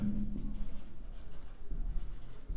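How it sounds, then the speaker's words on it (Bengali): A word being written on a board during a grammar lesson, a low steady rubbing and scraping of the marker with no speech heard. "আমি লিখে দিচ্ছি এখানে ডিটারমিনার"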